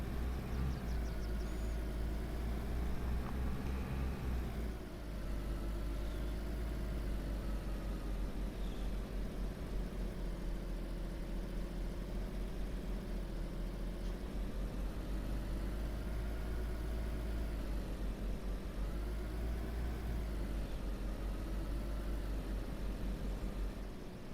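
Car engine in the video game DayZ running steadily at low speed, a continuous mid-pitched hum with slight rises and falls in tone, loud and close throughout with no talking.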